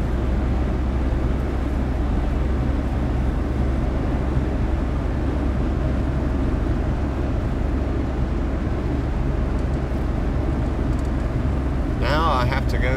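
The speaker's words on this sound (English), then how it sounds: "As the train comes to a complete stop and the train cars are finished rolling backwards" A CSX ethanol freight train slows to a full stop near Mt. Holly, its cars rolling backwards; a steady low rumble holds throughout, with a brief higher metallic squeal near the end.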